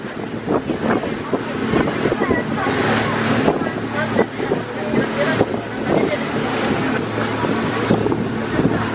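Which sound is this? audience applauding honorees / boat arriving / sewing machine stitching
boat arriving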